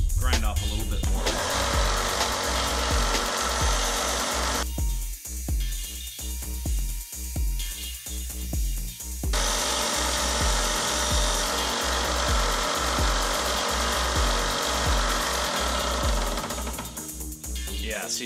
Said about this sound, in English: so I'm going to grind off a little bit more